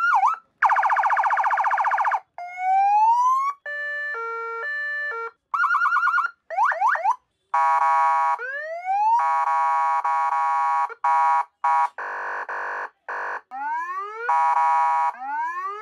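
A car siren speaker accessory, meant for fitting in an ambulance, plays a rapid sequence of loud electronic siren tones close up: wails, yelps, beeps and warbling patterns switching every second or two, with short silent gaps between them.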